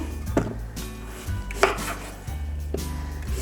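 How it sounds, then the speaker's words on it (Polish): Peeled celery root cut into roughly two-centimetre pieces with a knife on a board, a few dull, close chops spaced irregularly over a low steady hum. "I teraz kroję na około 2 cm kawałki."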